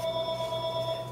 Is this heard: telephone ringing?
yes